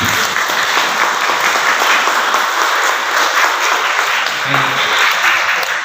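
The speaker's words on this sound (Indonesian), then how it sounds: "Tepuk tangan dulu." Loud, dense audience applause fills the whole stretch, a steady wash of many hands clapping at an Indonesian gathering, with faint voices mixed in beneath.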